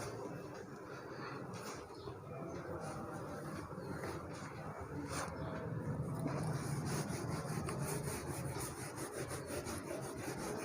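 A board being wiped clean in a maths class, a steady continuous rubbing and scrubbing texture lasting about ten seconds, close and fairly even in level, with no talking.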